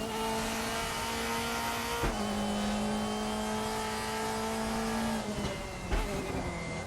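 A Mercedes 2005 DTM race car on the Nordschleife screams at high revs, its engine note holding steady through a gear, dipping sharply at each upshift and climbing again, heard close from inside the car.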